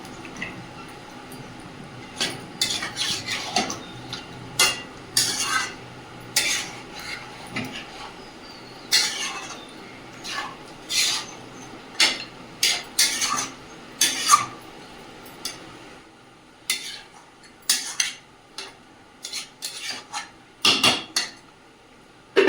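Mutton with biryani masala is stirred and scraped in a pot, a long series of irregular metallic scrapes and knocks from a spoon against the pot over a quiet background.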